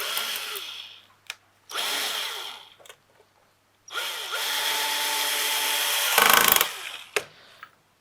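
A power driver drives screws while a 12 V 70 Ah battery charger-starter is assembled. Several close, whirring bursts of a few seconds each are separated by pauses, with wind noise in between.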